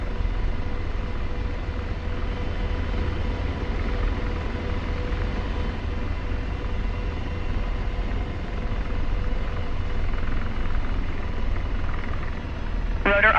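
AH-64 Apache attack helicopter in the DCS combat flight simulator, its rotor and turbine drone steady and loud for the whole stretch, with a brief warbling tone near the end.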